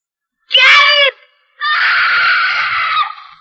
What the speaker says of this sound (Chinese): 丈夫听到了妻子的尖叫，